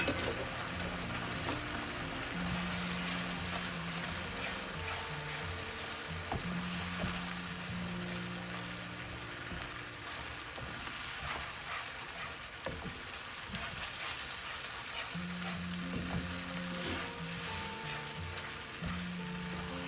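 Fish curry masala sizzles and fries steadily in a pan, a dense, close hiss and crackle that holds unbroken throughout, with occasional faint stirring scrapes underneath.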